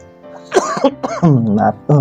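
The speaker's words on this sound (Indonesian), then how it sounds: "Agak batuk." A short burst of coughing and throat clearing, close by, a few rough hacks in quick succession.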